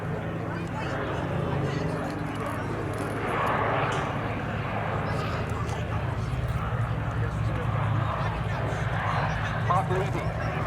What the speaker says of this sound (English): a beautiful landing of the P-47